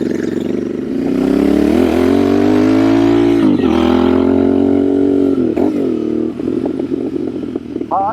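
A new Royal Enfield Bear 650 motorcycle with a high pipe exhaust being ridden, a loud steady throaty engine drone with rising and falling revs through gear changes, close and continuous.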